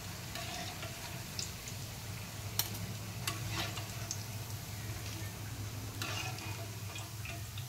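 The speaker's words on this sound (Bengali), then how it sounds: "তাই আমি বড় বড় করে ভাজতেছি।" Cabbage pakoras fry in hot oil with a soft, continuous sizzle, dotted with a few light ticks and clicks of stirring, fairly quiet and without talk.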